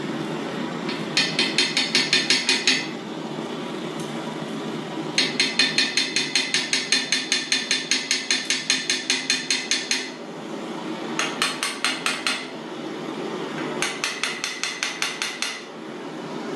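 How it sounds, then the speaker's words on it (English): Rapid metallic hammer taps on screws ring out in several bursts, quick even strikes on metal separated by short pauses, close and bright. "then I tap them a little bit with a hammer"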